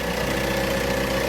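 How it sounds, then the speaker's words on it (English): A marine diesel engine runs steadily at idle, a constant low rumble with a strong mid-range hum and no breaks across the short stretch, with no voices over it. "we have a functioning engine, no fuel leaks, no diesel exhaust leaks"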